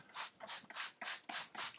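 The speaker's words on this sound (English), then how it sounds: "now I'm going to take a spray bottle containing water" Repeated bursts from a hand-pumped spray bottle misting plain water onto plaster wrap for a landform model, about six short hissing squirts in an even rhythm, close and alone.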